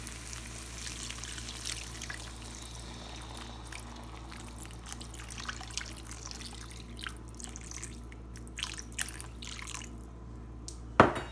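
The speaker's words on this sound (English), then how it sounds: "I'm just going to add some of this spring water." Spring water pours into a cooking pot holding softened onions and tomatoes, a faint trickle and drips over a low steady hum, ending in a brief knock.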